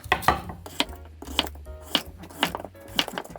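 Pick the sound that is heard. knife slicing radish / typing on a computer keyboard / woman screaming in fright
knife slicing radish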